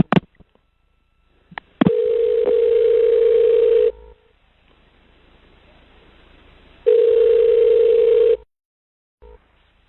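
A steady telephone line tone sounds while a 911 call is transferred to EMS, with two long even bursts separated by a quiet gap and a few short clicks at the start.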